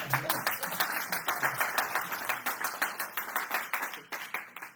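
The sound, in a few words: audience applause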